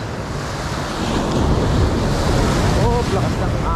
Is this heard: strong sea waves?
yes